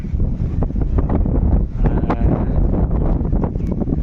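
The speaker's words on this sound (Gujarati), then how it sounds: "એકદમ ઠંડી ઠંડી હવા આવે" Strong, steady wind buffets the microphone with a loud, continuous rumbling roar for the whole stretch.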